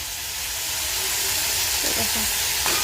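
Food frying in a home kitchen gives a steady, close hiss of sizzling oil with a few faint clinks, and a voice speaks briefly over it.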